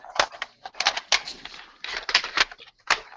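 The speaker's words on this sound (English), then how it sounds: "I hear a lot of cartridge shuffling" Video game cartridges being shuffled and clacked together by hand, with a close, irregular series of sharp plastic clicks and rattles in quick bursts.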